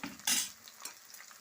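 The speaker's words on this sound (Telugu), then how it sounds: "ఉల్లిపాయలు వేస్తున్నానండి కలిపేసుకుంటున్నాను" A brief sizzle as onions drop into hot oil with already-fried green chillies, followed by a few scraping stirs of a utensil against the pan.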